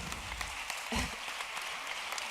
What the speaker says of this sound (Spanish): no tienen que aplaudir ahora todo el rato